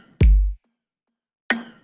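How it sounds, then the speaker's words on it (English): High-pitched wood blocks stand in for a snare in an R&B beat: two sharp, dry knocks played alone with a short silence between, the first backed by a brief low thump. "Instead of using a snare, I use some like high-pitched wood blocks,"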